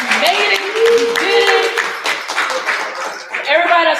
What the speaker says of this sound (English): give everybody else a round of applause